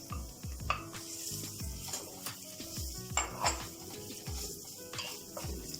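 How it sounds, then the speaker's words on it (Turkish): Minced meat goes into a pot of vermicelli soup on the stove, with a soft steady sizzle, a clinking spoon and repeated scraping and stirring against the pot. "Kıymamı da katıyorum."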